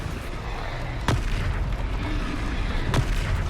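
Confringo explosive spell blasts in the video game Hogwarts Legacy, two sharp booming impacts spaced about two seconds apart over a continuous rumbling battle background.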